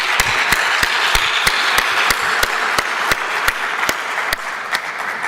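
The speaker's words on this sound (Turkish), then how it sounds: "Önce sizi alkışlıyorum." A crowd claps in a broadcast hall, the applause building into a sharp, regular rhythmic beat of unison claps that cuts through a steady wash of crowd noise.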